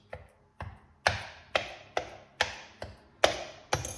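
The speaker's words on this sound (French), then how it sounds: "je vais la piquer de part et d'autre avec la fourchette" A fork pricks semolina flatbread dough (harcha) on both sides, about eight sharp, evenly spaced taps, each with a quick decay, close and clear with no talking.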